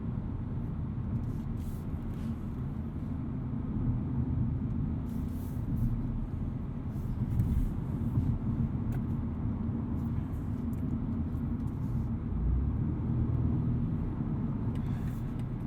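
Steady road noise inside a moving 2020 BMW M235i Gran Coupe on pavement: a constant low tire rumble and faint wind hiss, even and unbroken throughout, with no talk.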